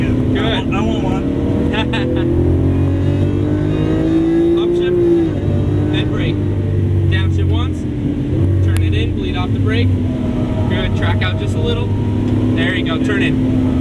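A Lamborghini Aventador engine drones loudly and continuously while driven on a track, its pitch rising and dipping with throttle and gear changes, as a voice talks over it.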